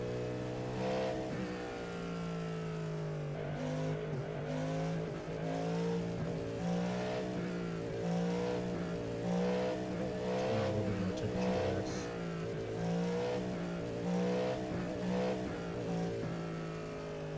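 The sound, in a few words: Cadillac GTP race car in iRacing video game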